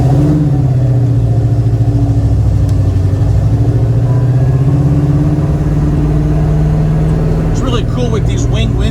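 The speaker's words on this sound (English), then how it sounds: "This 350 obviously has a set of headers on it, so it does scoot out pretty good." A 1971 Chevy Nova with a 350 V8 and headers drives along under load, its engine note droning steadily and loudly from start to finish, with a brief burst of rattling noise near the end.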